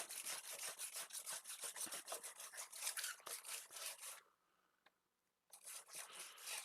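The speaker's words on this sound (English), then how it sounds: "This is 80 grit, so it's pretty abrasive." An Xbox console case being sanded by hand with coarse 80 grit sandpaper: steady rhythmic rasping strokes up close, pausing for about a second before the scraping resumes.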